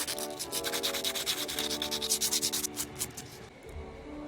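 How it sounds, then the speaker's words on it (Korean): Rapid back-and-forth rasping of sandpaper smoothing a 3D-printed figure, close up and steady, slowing near the end. "사포로 다듬어 줍니다."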